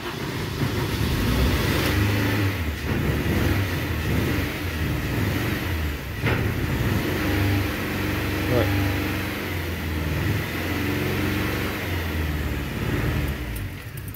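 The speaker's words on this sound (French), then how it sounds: "je vais appuyer sur l'embrayage pour qu'il y ait un truc de moins à démarrage et je vais mettre un peu de gaz pour l'aider un petit peu" A car attempting a cold start with the clutch pressed and a little throttle, a rough, steady engine drone running close and loud for the whole stretch, with someone talking over it at times.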